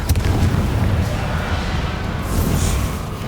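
Explosive Bombarda and Confringo spells from the video game Hogwarts Legacy, a dense continuous rumble of booming blasts that stays loud and close throughout, with no distinct gaps between impacts.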